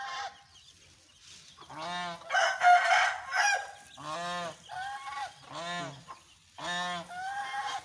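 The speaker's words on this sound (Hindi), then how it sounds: "ये मिक्स दाना है बतखों के लिए, मुर्गियों के लिए।" Farm ducks and desi hens being fed a mixed grain feed call in repeated loud, nasal honking bursts with short pauses between, close to the listener.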